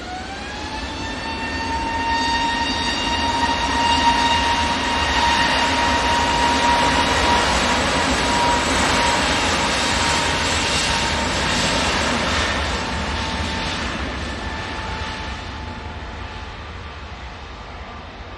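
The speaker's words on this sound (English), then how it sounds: "There's an EasyJet coming in from Alicante" An easyJet airliner arrives at Manchester Airport from Alicante with a steady, fairly loud engine whine and rushing roar that swells and then slowly fades, tonal notes sliding gently as it passes.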